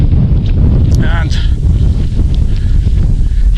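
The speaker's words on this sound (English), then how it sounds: "Today it's wet, a wee bit windy" Gusty wind buffets the microphone on a wet, mild day walking in Scotland's Pentland Hills, a loud, steady low roar filling the whole stretch, with a brief voice-like sound partway through.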